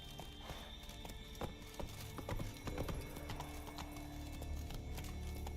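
Roach the horse galloping in the video game The Witcher 3, rapid hoof clip-clops over a constant bed of ambient game sound, fairly quiet and steady throughout.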